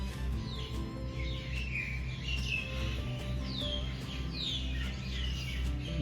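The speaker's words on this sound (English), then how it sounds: "You hear the birds chirping." Birds chirp and tweet repeatedly in the distance among trees at Wat Niwet Thammaprawat temple in Thailand, over a steady low outdoor rumble, with short quick calls scattered throughout.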